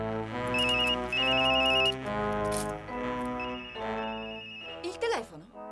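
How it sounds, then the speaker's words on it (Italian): An old-style telephone bell rings in repeated bursts in a domestic setting of an Italian comedy film, loud and close, with people speaking over and between the rings. "Il telefono? No, è quello dei vicini."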